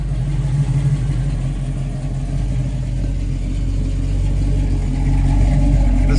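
A 1967 Chevrolet Nova Super Sport engine with a performance cam runs steadily with a loud, lopey low rumble, heard alone and close for several seconds.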